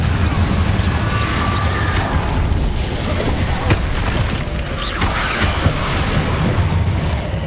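Confringo explosive spell cast during combat in Hogwarts Legacy, a dense, loud rumbling blast with crashing impacts sustained under continuous battle noise.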